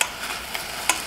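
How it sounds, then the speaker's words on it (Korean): Sliced onions for French onion soup caramelizing in a pot, a soft sizzle with a few brief scraping stirs, close and moderately quiet, no voices. "캐러멜라이징 하는 과정입니다."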